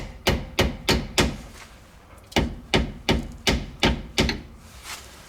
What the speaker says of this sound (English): you will need to use a hammer or similar tool just to knock it